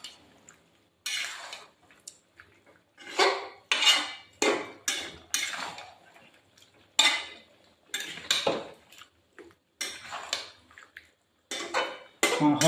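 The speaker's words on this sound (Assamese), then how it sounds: "মাংসখিনি লৰাই দিছোঁ।" A spoon scrapes and clanks against a cooking pot as meat is stirred after simmering about twenty minutes. The metallic strokes come in irregular bursts, fairly close, with short pauses between them.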